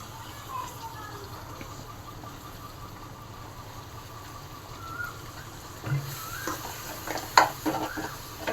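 Washed salted fish go into a hot pan for a fish curry, with a soft, steady sizzle and then clattering bumps and stirring as they are dropped in.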